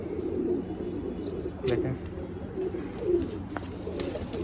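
Soft cooing of a flying pigeon rises and falls amid a noisy background, with a brief spoken word partway through.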